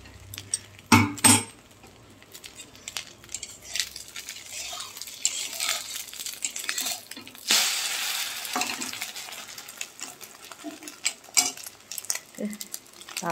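Egg omelette frying in a pan, with a steady sizzle broken by sharp metal clinks of a spatula and utensils scraping and tapping against the pan throughout.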